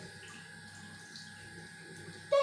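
A small amount of water trickles softly into a cooking pot, a faint, steady pour under quiet room noise, ending with a brief louder clatter.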